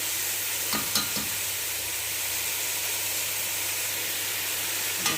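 Chicken with tomato and salt frying in a pan gives a dense, continuous sizzle and hiss, with a couple of brief stirring scrapes early on, close and steady throughout.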